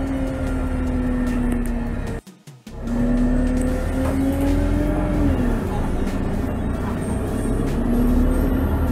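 Bus in American Bus Driving Simulator video game pulling away: a steady loud engine drone with a rising tonal whine, briefly cut by a short gap of silence, then resuming and climbing in pitch as it accelerates.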